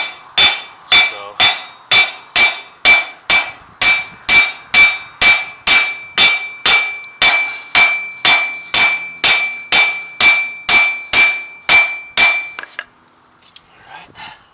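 A hammer taps a U-joint cap about twenty times in a steady, even rhythm during a carrier bearing replacement, each blow a bright, close metallic clang with a ringing tone, ending in quiet handling noise.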